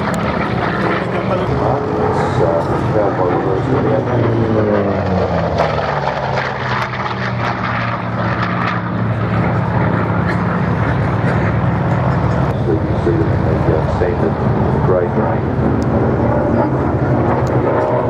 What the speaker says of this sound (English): aircraft.